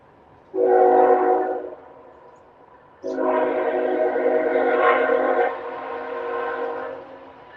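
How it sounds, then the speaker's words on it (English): A train horn blasts loud and close in two long sustained blows, the second stretching several seconds before tapering, with the rumble of the passing train beneath. "Is the train passing by, right?"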